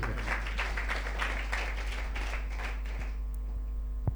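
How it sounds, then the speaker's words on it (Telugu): A church congregation claps loudly together in a sustained burst of rapid clapping that fades out over the last second, heard fairly distantly under a low hum. "కొట్టు చప్పట్లు గట్టిగా"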